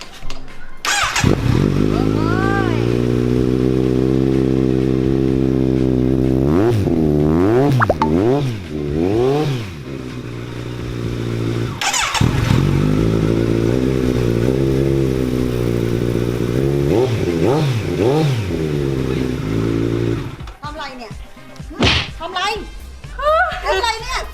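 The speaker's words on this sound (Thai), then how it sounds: "เดี๋ยวผมจะสตาร์ทเครื่องนะครับ" A motorcycle-like engine on a luxury vehicle cranks, catches and idles loudly, then is revved repeatedly in rising and falling swoops before settling back to idle and cutting off near the end.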